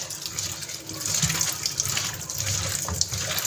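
Tap water mixed with iron pours from a faucet in a steady, splashing stream, close and continuous with small gurgling fluctuations.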